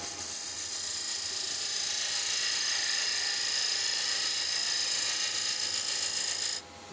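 Woodturning lathe spins a box blank while a tool cuts a small tenon, giving a steady, close, high-pitched whine with faint scraping that stops abruptly at the end.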